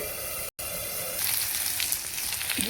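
Gravy masala fries in oil, a soft, steady sizzle and crackle that grows slightly busier after a brief dropout, fairly close and quiet, with no one talking.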